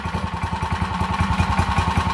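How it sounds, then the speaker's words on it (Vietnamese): A used Japanese Honda water pump engine runs steadily up close, a loud, even rapid thumping idle with no pauses. "Máy nổ cực kỳ chắc."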